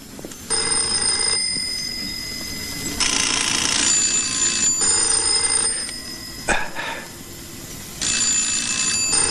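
Several telephones ring in repeated bursts, bright electronic trills starting and stopping with short gaps, fairly loud and close with no talk over them.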